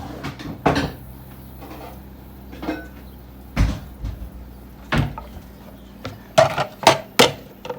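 Kitchen scales come out of a cupboard with a series of sharp wooden knocks and bumps, a cupboard door opening and closing, and scattered clatters spread irregularly through a quiet kitchen.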